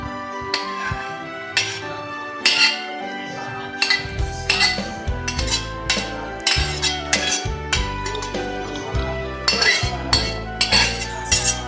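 Metal utensils scrape and clink steadily against a wok as spices are stirred, with sizzling underneath and a busy stirring rhythm throughout.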